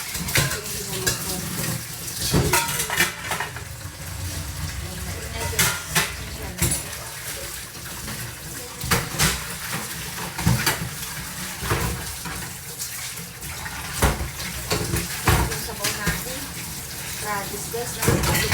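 Cooking pots and dishes washed under a running tap, a steady stream of water with repeated clinks and scrapes of cookware, while people talk nearby throughout.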